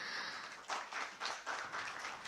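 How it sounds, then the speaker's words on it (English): Applause from the audience at a Center for Karbi Studies foundation day event, a quiet, distant patter of clapping that rises in a few soft swells and carries on steadily throughout. "May we have a huge round of applause"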